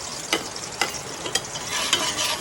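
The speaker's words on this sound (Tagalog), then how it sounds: "Magigisa na po siya. Ginger mga idol." Ginger sautés in a hot pan with a steady low sizzle, while a utensil stirs and scrapes against the pan in several distinct strokes. The sound is close and there is no talking.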